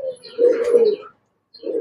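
Racing pigeons coo in two close, soft bursts, a throaty rolling call followed by a short pause and another coo.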